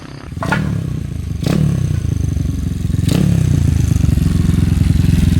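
A Honda Wave 125 motorcycle engine being started for the first time after restoration, with a few sharp starting clanks followed by a loud, close, steady idle that keeps running without voices.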